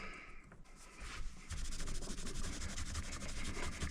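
Guitar frets on a Washburn Dime 333 electric guitar are rubbed with polish, giving a quiet, close, rapid back-and-forth scrubbing that starts faint and grows steadier.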